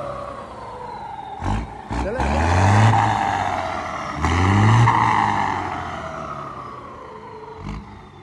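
A modified truck's engine revs in surging bursts, its turbocharger whistling and wailing loudly as it accelerates, heard nearby with brief thumps between the revs.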